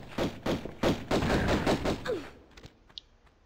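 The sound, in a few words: pistol gunfire in the video game Tomb Raider I Remastered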